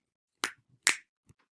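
Two crisp, close finger snaps about half a second apart, followed by a fainter third click, against near silence.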